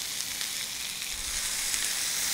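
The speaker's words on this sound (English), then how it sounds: "Nice sizzle." Steak sizzling in a hot frying pan, a steady, close, bright hiss of fat crackling that carries on evenly throughout with no voices.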